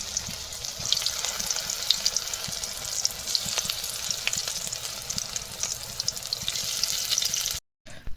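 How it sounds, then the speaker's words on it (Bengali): Onion pakoras (peyaji) frying in a small amount of oil, a steady bright sizzle with occasional crackles and pops that runs continuously, then cuts out briefly near the end. "এই অল্প তেলেই কিন্তু আমার মা এখন পেঁয়াজি তৈরি করছে"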